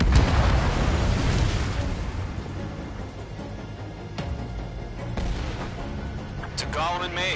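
Missile launch and blast in the jet combat game Ace Combat 7, a loud opening boom followed by rumbling explosive bursts and scattered pops, with radio chatter over the top near the end.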